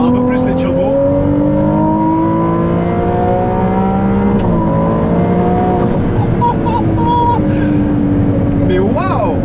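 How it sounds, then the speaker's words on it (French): A Ferrari 296 GTB on the move, its engine and turbos giving a loud, sustained tone that climbs and falls through the revs, with a voice talking over it throughout. "pour moi c'est une belle sonorité Ferrari"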